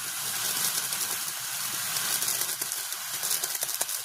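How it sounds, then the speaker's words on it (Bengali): Meat being sautéed with cumin and pepper powder hisses and sizzles steadily in a pan, a bright continuous crackle with small pops near the end. "মাংসটাকে কষানো হচ্ছে"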